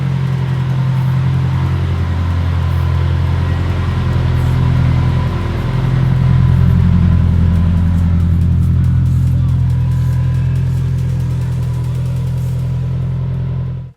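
Car engine running at a steady idle nearby, a loud low continuous hum with a slight swell midway, ending abruptly.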